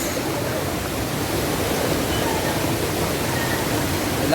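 Bulawan Falls roars as a steady, dense wash of falling water, loud and close, with no break.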